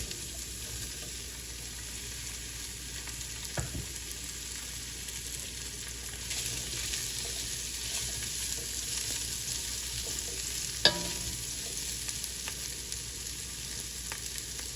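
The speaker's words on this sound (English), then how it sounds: "We want to have this pot nice and hot so that we can sear off our sausage, and Tasso is going in first." Tasso and sausage sear in a hot pot for Cajun jambalaya, giving a low, steady sizzle throughout with a couple of sharp clinks or pops standing out, close and fairly quiet, no talking.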